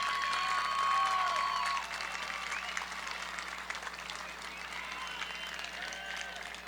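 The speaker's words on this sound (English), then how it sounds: "just give them a round of applause" At a 2021 high school graduation ceremony, a crowd applauds parents and families with sustained clapping and some cheering, loud at first and then settling to a steady, slightly softer level.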